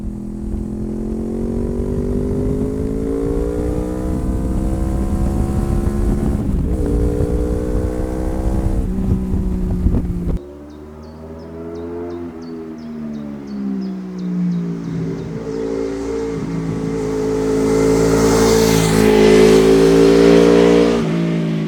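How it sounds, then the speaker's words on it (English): A Honda VFR800 motorcycle engine hums and revs, its pitch rising and falling through gear changes, loud and close, swelling to a strong roar near the end. "One thing I have to give this motorcycle credit for is how great it sounds."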